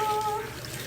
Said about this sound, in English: Give my little spatula a little rinse here.